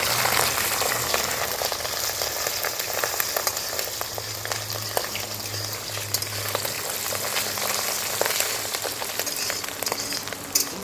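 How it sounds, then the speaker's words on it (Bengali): Goat fat fries in hot oil with dry red chillies, cardamom and cloves, giving a steady, dense sizzle and crackle with small pops that keeps going the whole time. "চর্বিটা আমরা হালকা করে ভেজে নিয়েছি।"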